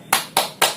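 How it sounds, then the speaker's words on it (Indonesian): A small group performs the Tepuk STC clap routine, three sharp, evenly spaced claps in unison, close and crisp with no talking over them. "Masih ingat gak Bu tepuk STC-nya? Coba kita praktekkan bersama-sama ya Bu."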